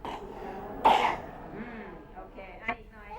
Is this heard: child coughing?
yes